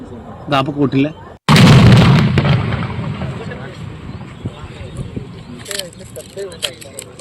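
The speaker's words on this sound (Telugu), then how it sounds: "తీవ్రవాదుల నుంచి స్వాధీనం చేసుకున్న బాంబులను నిర్మానుష్య ప్రదేశంలో నిర్వీర్యం చేశారు పోలీసులు" Police carry out a controlled detonation of seized bucket bombs at a deserted site: brief voices, then a single sudden loud blast whose rumble slowly decays, with faint talk and noises returning afterward.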